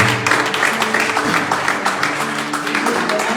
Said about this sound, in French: give a round of applause to Jude